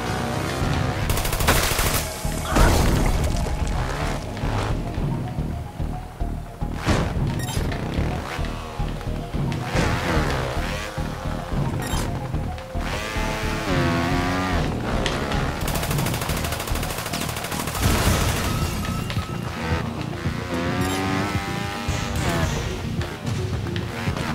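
Rapid gunfire in the video game Trials Blood Dragon as tumors are shot, loud sustained bursts and volleys packed tightly over game music and effects, with a voice talking at times.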